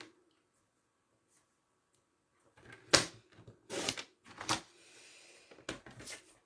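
A sheet of white cardstock (Murmure blanc) is cut on a paper trimmer while making a card, giving several sharp slicing and sliding bursts after a quiet start, close by and alone.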